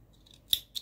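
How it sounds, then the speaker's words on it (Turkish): Two quick close snips of scissors cutting crochet yarn, crisp and fairly quiet, the second following the first a quarter second later in near silence. "ipimi kesiyorum"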